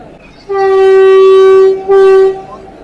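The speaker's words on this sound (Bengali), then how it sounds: "দেখো বন্ধুরা বন্দে ভারত এক্সপ্রেস ছেড়ে দিল।" The Puri–Howrah Vande Bharat Express sounds a loud, close two-part horn, a long sustained blast followed by a shorter one, with faint rail rumble underneath.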